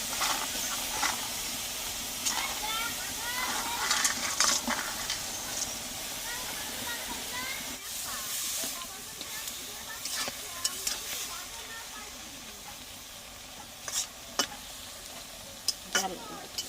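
Lentil dumplings (dal bori) sizzle in hot oil with a steady bright hiss, close and continuous, broken by occasional stirring clinks and scrapes, a voice speaking briefly over it.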